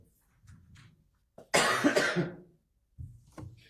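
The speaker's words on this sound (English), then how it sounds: "Nah, I've been coughing all weekend." A single loud, harsh cough bursts out alone, bracketed by quieter shuffling and breathing noises.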